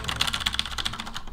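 Fingers type on a gamer's computer keyboard, a quick run of crisp, light key clicks close to the microphone, fairly quiet and with no talking.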